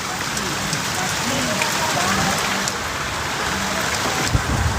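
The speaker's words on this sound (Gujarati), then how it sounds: "વરસાદ ચાલુ થઈ ગયો છે" Steady rain pours down in a continuous hiss, with scattered drops pattering close by and no voices.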